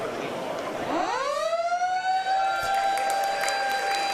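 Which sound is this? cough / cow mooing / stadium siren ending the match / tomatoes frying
stadium siren ending the match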